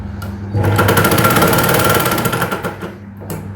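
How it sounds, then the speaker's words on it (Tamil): A sewing machine stitches the cross piece of a blouse neck, a fast rhythmic mechanical whirr running for about two seconds after a brief start, close and loud, then slowing to a stop. "அது மாதிரி 2 தையலை போட்டுறேன்."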